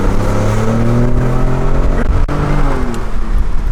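A twin-turbo 500-horsepower truck engine revs loudly and close by, its pitch rising and falling in a sustained throaty roar with no talk over it.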